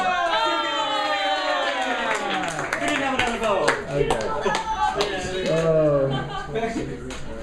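Applause from an open mic poetry night audience for a poet, clapping and cheering mixed with talk and laughter running through the whole stretch at moderate level.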